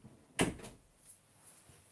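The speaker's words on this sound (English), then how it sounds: "So excuse me while I just shut the door." A house door swings shut with a single sharp thud close by, followed by a faint rattle as it settles, no talking.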